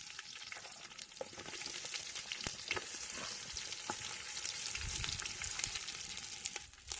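Chopped onion frying in oil with cloves, cardamom and whole spices for chicken biryani, a steady close sizzle with scattered crackles and pops and occasional stirring scrapes, no voices.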